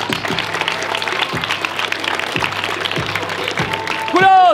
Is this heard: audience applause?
yes